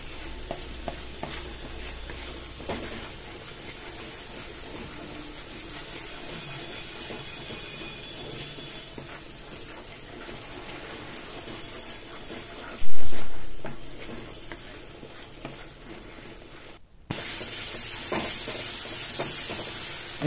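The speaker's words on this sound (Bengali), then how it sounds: "এটাকে ভালো করে এখানে নাড়াচাড়া করে নিচ্ছি।" Fried masala with cashew paste is stirred in a pan, a steady soft sizzle with scraping spoon strokes throughout, broken by a sharp clatter midway and a brighter hiss near the end.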